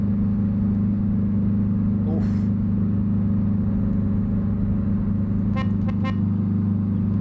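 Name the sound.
car driving past outside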